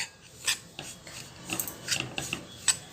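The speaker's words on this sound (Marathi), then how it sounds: "तर 10 मिनिटं चांगलं हलवून घ्यायचं" Grated coconut filling for modak is stirred in a pan, giving steady rasping scrapes with sharper metallic catches at irregular intervals, close and fairly quiet, with no voices.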